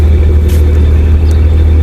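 A BMW car engine with something wrong rumbles roughly like a tractor, a loud, low, steady throb heard close up for a couple of seconds, with no talk.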